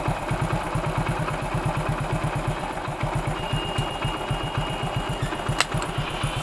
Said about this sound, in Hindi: 3 चूड़ी पे इंजन का साउंड भी सही निकला